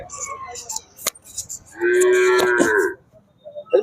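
A cow lets out one long, loud moo at close range at the Shri Bandi Ranganathaswamy temple fair in Tavarekere, Sira taluk, with scattered chatter and farm noise before and after.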